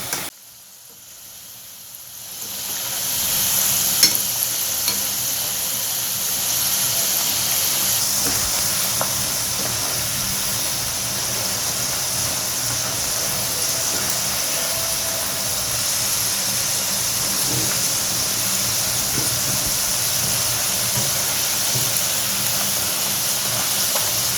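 Potato fries dropped into very hot oil for deep-frying: after a quiet moment the bubbling hiss swells quickly into a loud, dense, steady roar that holds unchanged to the end, close up.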